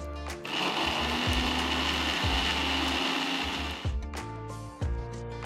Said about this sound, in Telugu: ఆ తర్వాత కొన్ని నీళ్లు పోసి మెత్తటి పేస్ట్ అయ్యేట్టు రుబ్బుకోవాలి.